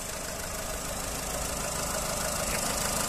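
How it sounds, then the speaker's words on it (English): Blue 2008 Volkswagen Polo 1.4 petrol hatchback with automatic gearbox idling, recently serviced with new cam belt and water pump; a smooth, steady engine hum close by, constant in level with no speech. "Engine sound nice and smooth"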